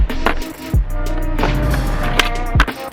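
A skateboard on flat ground during street tricks: sharp wooden pops and clacks of the board landing, with gritty scraping of the tail against the pavement in between, loud and close.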